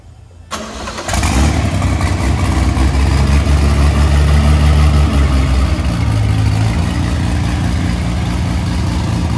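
An Opala Gran Luxo six-cylinder turbo car engine cranks and fires up after a brief quiet start, then settles into a loud, steady, rumbling idle with slight swells in revs, close by and without talk.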